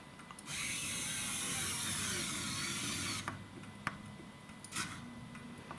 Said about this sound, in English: sort of turning the screwdriver and just giving a little hand turn after it's hit the bottom